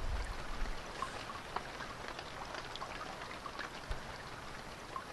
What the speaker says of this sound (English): an endless rain